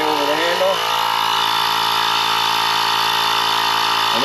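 A Bauer hand-held tire inflator runs with a loud, steady, buzzing motor whine that holds constant throughout, while a voice is heard briefly at the start.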